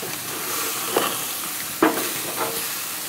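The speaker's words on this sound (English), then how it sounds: "I'm gonna flip these now." Cold smoked porterhouse steaks sizzle steadily on a grill, with a few soft thuds and bursts of hissing as they are flipped.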